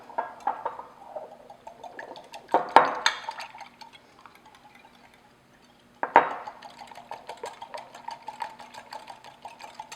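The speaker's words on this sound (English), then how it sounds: "I'm going to whisk in 1 large egg and 1 teaspoon of pure vanilla extract" A whisk beats an egg and vanilla extract together in a bowl for scone dough, giving rapid rhythmic clinks and light liquid sloshing, with two sharper knocks against the bowl and a brief pause between bursts.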